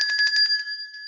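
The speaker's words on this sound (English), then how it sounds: "Give him a bell ring, Joe" An electronic bell rings in a rapid pulsing trill, two steady tones repeating for about a second on a radio weather show, loud and without talk over it.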